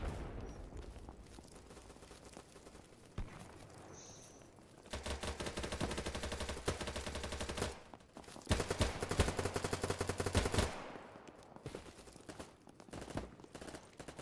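Gunfire in the shooter video game BattleBit Remastered, distant scattered shots at first, then two sustained loud bursts of rapid automatic fire separated by a short pause, trailing off into sporadic shots.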